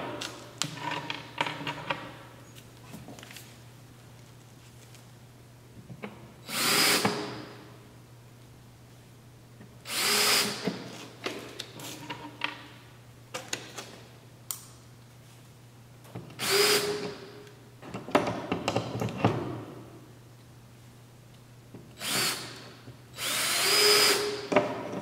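Power drill driving screws into plywood concrete forms for a slab, heard close up: about five separate bursts of whirring spaced a few seconds apart, each lasting one to two seconds, with a steady low hum and faint handling noises between them.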